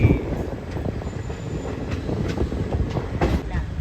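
The Kacheguda-Mysuru Superfast Express runs at speed near Mahabubnagar, a close, loud rolling rumble with rhythmic clickety-clack wheel beats and brief squeals over the track.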